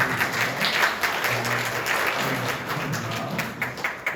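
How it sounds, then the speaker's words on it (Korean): A congregation at a Korean church Sunday service applauds a visiting deacon, a sustained round of many hands clapping, mixed with a few murmuring voices, that tapers slightly toward the end. "박수하도록 하겠습니다"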